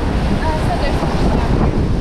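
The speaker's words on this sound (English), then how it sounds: "It's really windy" Strong wind buffets the microphone in a constant roar at a beach on Harkers Island, with surf noise blended underneath, loud and close throughout.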